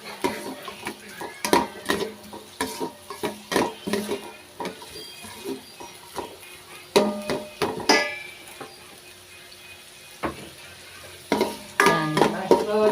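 Onions sautéing in a pan for bopis, with a steady sizzle broken by repeated sharp clinks and scrapes of a utensil stirring against the pan, loud and close, with a brief burst of talk near the end.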